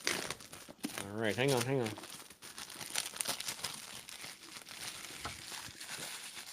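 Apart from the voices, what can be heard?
plastic wrapping being torn open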